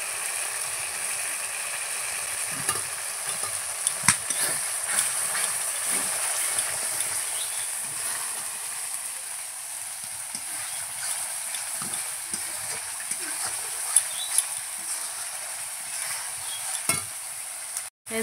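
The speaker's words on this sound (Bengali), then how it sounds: "সামান্য পরিমাণে জল দিয়ে ভালো করে মশলাটাকে কষিয়ে নেব।" A spice paste with turmeric stir-fries in a pan with a little water, a soft continuous sizzle under scattered scrapes and taps of a spatula, close and moderately quiet throughout.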